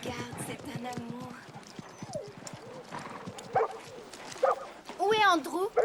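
A dog yips and barks in short bursts mixed with horse hoof clip-clop and a whimper, while people talk throughout.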